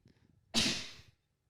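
A single sharp sneeze bursts out close by after a brief quiet moment, then silence.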